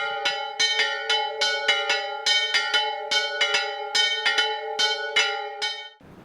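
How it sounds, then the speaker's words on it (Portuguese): The church bells of Chácara de Santa Cruz ring in a quick, uneven peal of bright overlapping strikes with long ringing tones, loud and clear, breaking off abruptly near the end. "os sinos da Chácara de Santa Cruz de volta a tocar."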